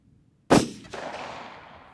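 A single sharp shot from a VPO-114 Tayozhnik rifle at a 100-meter target cracks after a brief silence, followed by a second impact report and a long fading echo.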